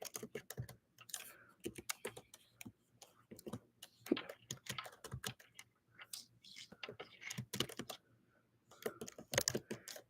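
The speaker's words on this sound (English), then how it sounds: "I'm typing." Quick irregular bursts of clicking keys as someone types on a computer keyboard, close and crisp, with short pauses between runs and no speech over it.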